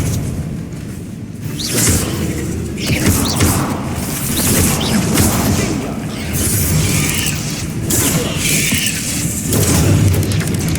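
Confringo explosion spells burst repeatedly in Hogwarts Legacy during a battle, loud booms and whooshes crashing over a rumbling, chaotic din with a voice shouting through it.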